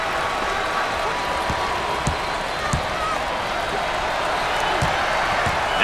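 Crowd noise in the NCAA Basketball 10 video game, a steady dense arena roar with scattered sharp ball bounces and squeaks underneath, loud and continuous with no voices standing out.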